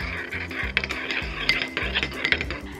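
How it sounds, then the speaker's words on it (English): A spoon stirs a cup of creamy milky tea, with quick rhythmic clinks and scrapes against the cup's sides over about three seconds, close and distinct, with no voices. "And just give it a good stir."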